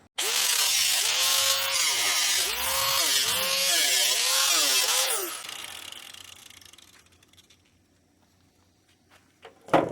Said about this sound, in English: I'm just going to take an angle grinder and cut out some of this rust